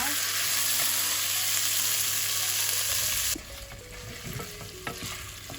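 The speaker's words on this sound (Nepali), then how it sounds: "राम्रोसँगले भुट्नुपर्छ, रातो हुने गरीकन भुट्नुपर्छ।" Organic chicken fries loudly in a pan with a dense, steady sizzle, then the hiss drops off sharply partway through, leaving quieter scraping and clinking stirring sounds.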